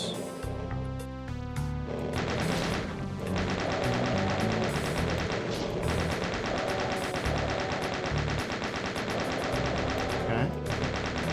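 Rapid machine-gun bursts and scattered gunshots crackle loudly and almost without pause in the Hell is War video game playtest, with a tonal game score running underneath.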